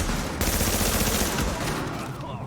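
Semi-automatic rifle gunfire in The Division video game: a dense, continuous volley of close, loud shots with no gaps, with faint game sounds behind it.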